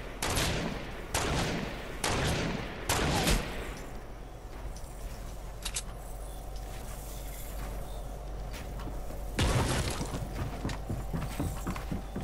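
Gunfire in the Fortnite video game: several sharp, loud shots in quick succession at the start, a lone shot near the middle and another burst later, over steady low background rumble.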